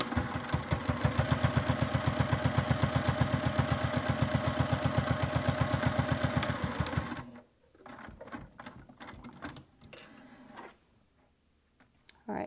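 A sewing machine sews a 3/8 inch seam on a wristlet in rapid, even mechanical stitching for about seven seconds, then stops, followed by faint handling noises.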